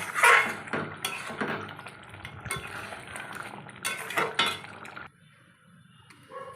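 Cooked Bele fish tel jhal curry being poured into a serving dish, with clinking of utensils and glass, scraping, and wet liquid sounds in uneven bursts, close and moderately loud, settling to quiet near the end.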